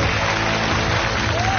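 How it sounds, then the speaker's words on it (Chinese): A television studio audience applauds for guests on a Chinese variety show, a steady dense wash of clapping filling the whole moment at even loudness. "应该以最热烈的掌声献给他们"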